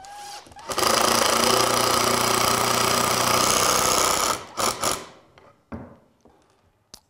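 A power drill whirs loudly and steadily for several seconds driving a pocket hole screw with a Kreg jig, then winds down and stops, followed by a few faint clicks and handling noises.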